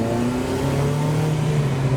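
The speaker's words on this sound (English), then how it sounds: "It sounds like a Fiesta." A modified Ford Fiesta's small engine revs steadily, a loud droning hum that rises slightly in pitch over two seconds.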